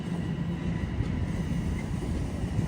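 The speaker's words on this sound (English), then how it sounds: "There's the subway again." Toronto subway train rolling past, a steady low rumble with faint rail hiss heard continuously and fairly close, no voices.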